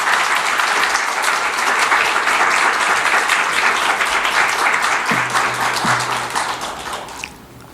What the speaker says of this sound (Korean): 한번 큰 박수로 환영해 주시면 감사하겠습니다